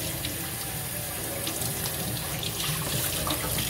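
Kitchen tap water runs steadily into a sink over a head of lettuce, a loud close continuous rush with slight splashing variations as the leaves fill.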